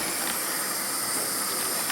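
Steam hissing steadily out of a moka pot that is failing to brew coffee, a continuous loud airy hiss with no talk over it.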